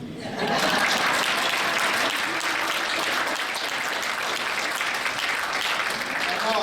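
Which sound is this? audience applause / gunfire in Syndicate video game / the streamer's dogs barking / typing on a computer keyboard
audience applause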